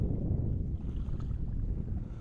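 Strong wind buffets the microphone beside high-altitude Pangong Lake in Ladakh, a steady low roaring rumble that fills the whole clip with no voices.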